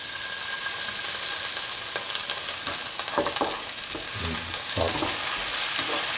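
Tomatoes sizzle in a frying pan for spicy okra fried rice, a steady close hiss broken by scraping stirs and soft clanks of the utensil against the pan.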